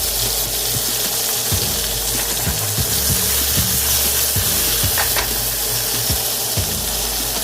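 Leeks frying beside a steak in a pan, a steady sizzle with scattered clacks and scrapes as a utensil pushes them around, heard close.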